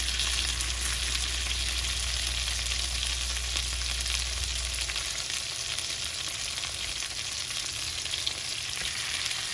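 Cheese crisps in a fry basket with a loud, continuous close sizzle. A low steady hum runs beneath it for the first half, then fades while the frying carries on alone.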